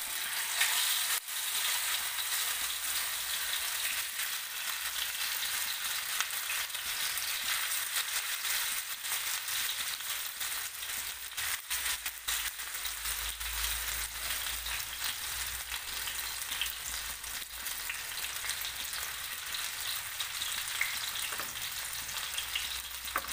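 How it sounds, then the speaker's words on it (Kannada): Fish sizzling and frying steadily in hot coconut oil on a flat tawa, a continuous close crackling hiss with no voices. "ಇವಾಗ ಎಣ್ಣೆ ಕಾದ್ಮೇಲೆ ಈ ಥರ ಒಂದೇ ಫಿಶ್ ಬಿಡಬೇಕು"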